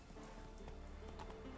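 Hooves of the horse Roach in The Witcher 3, a quiet regular clip-clop of footfalls in a steady rhythm, faint and low in level, with no talking over it.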